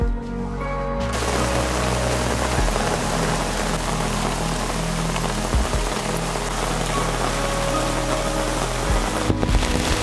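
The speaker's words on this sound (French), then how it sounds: "Génial, il pleut, on est content." Heavy rain pours steadily in the Amazon rainforest, a dense close hiss of drops on leaves and surfaces that starts abruptly and continues loud and unbroken throughout, with no talk.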